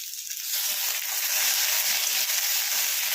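Potatoes fry in a pan for a bottle gourd dish, giving a steady, loud, bright hiss of oil that rises slightly and holds without a break or any voice.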